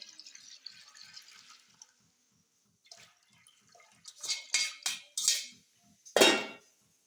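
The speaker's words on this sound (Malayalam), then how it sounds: "മൂന്നാം വെള്ളം ഒഴിക്കണേ" Water is poured in a few short splashing bursts into a metal pot while making wheat payasam, ending with one louder gush, after a faint hiss and soft ticking.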